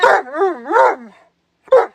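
A dog barks loudly and close, with two long howling, wavering barks and then a short sharp bark after a brief pause.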